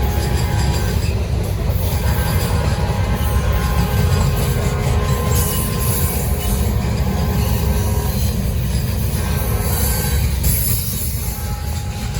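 Norfolk Southern freight train led by an ACC locomotive on the Charlotte District rumbles past loud and close, a steady heavy roar of engine and rolling cars with no pauses for the full length.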